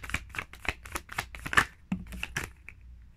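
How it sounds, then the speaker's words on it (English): Tarot cards shuffled by hand during a reading, giving a series of crisp riffling and slapping bursts in an irregular rhythm, close and moderately loud, with no talking. "And hold up, let me shuffle by the camera."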